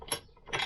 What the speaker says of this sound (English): washer as usual, fall on the floor